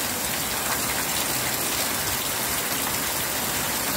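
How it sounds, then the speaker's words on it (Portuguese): Heavy rainstorm in Rio de Janeiro with floodwater rushing down a hillside street, a dense, steady roaring wash of water and rain heard at a distance without pause. "Olha lá embaixo, a água descendo no morro."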